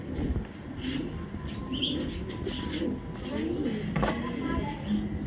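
Silver Jabra pigeons cooing softly at a pigeon market, low murmuring coos and a brief chirp beneath someone talking in the foreground.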